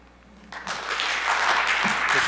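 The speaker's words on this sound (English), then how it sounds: "Can you hold the applause" Applause swells from scattered claps into a dense, sustained wave of clapping from a crowd in a room at a Board of Education meeting, with faint voices underneath.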